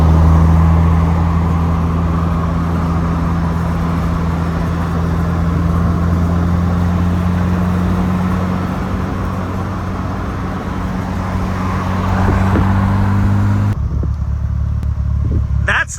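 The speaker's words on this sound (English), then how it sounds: "Let's start the Evo." A Mitsubishi Evo engine runs at a steady idle with a low droning hum from start to finish, fairly close and loud, before cutting abruptly near the end.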